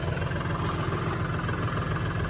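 A tractor engine idles steadily at close range near a harvester sunk in a waterlogged, muddy field, giving a continuous low rumble with no breaks.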